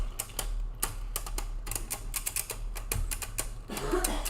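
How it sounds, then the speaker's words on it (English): Beyblades clicking and clacking against each other during a tournament battle, a quick irregular run of sharp ticks and taps over a steady low hum. "Just the sounds of the Beyblades. Tippy tapping. Clickety tapping. Clickety clacking."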